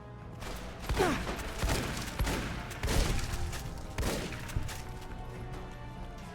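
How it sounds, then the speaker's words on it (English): A sniper rifle fired indoors in Fallout: New Vegas, several heavy booming shots at roughly one-second intervals, each ringing out with a short echoing decay in an enclosed space. "Why are you using a sniper rifle indoors?"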